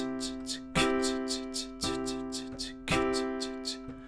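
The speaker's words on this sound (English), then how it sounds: "So if we play the chord on the backbeat, it sounds like this." Piano chords struck on the backbeat of a halftime groove, a softer pulse punctuated by louder accented chords about once a second, close and unaccompanied.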